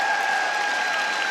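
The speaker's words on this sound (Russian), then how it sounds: "Мы стоя, Софии аплодируем сейчас" Audience at a figure skating Grand Prix Final in Russia applauding, a steady, dense wash of clapping from a large arena crowd, continuous throughout with a faint tone running underneath.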